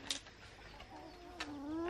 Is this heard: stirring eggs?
no